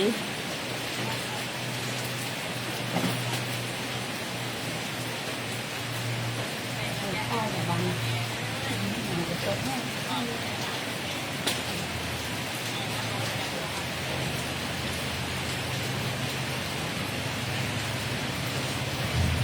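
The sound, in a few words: rain falling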